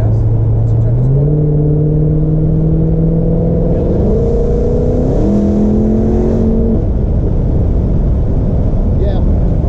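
A Dodge Hellcat in track mode accelerates hard through an automatic 8-speed transmission, the loud engine roar climbing in pitch and stepping up through a couple of gear changes before easing off, steady cabin noise throughout.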